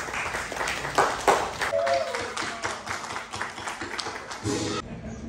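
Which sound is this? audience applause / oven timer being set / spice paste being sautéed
audience applause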